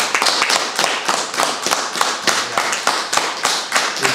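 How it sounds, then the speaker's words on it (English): Applause from a small group at a city council meeting honoring a retiring water treatment plant worker, close, loud and rhythmic with distinct individual claps, continuing steadily throughout. "Round of applause."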